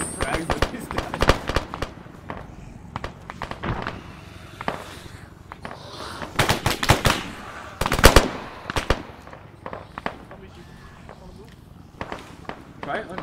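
Frag grenades and gunfire in Arma 3: sharp cracks and bursts, some in quick clusters, scattered across a battlefield, with louder blasts midway, under ongoing talk.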